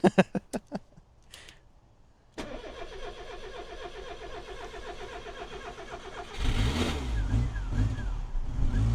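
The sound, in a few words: car engine starting and stalling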